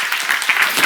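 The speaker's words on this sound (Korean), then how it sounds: "여러분 내가 찬송하는 거 강아지도 같이 듣는 거면 이제 빨리 박수." A Korean church congregation claps during a pastor's Bible lecture. The burst of many hands is brief, loud and steady, with no one talking.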